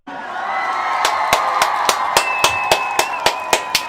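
A crowd at an Umoja Toast gathering cheers over a run of sharp, evenly spaced claps that grow stronger, with sustained whoops and shouts holding beneath them for nearly four seconds.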